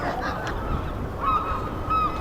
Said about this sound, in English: listening to the seagulls squawking